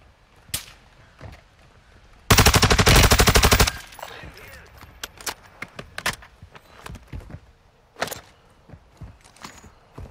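Gunfire from the video game Warzone 2.0 rings out as a loud, sustained automatic burst in the middle, with scattered single shots and clicks before and after it.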